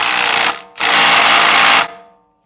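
A 3/8 power tool driving a 14mm bolt coated with blue Loctite on a Jeep track bar bracket, two loud, whirring bursts, a short one then a longer one, separated by a brief gap and then winding down.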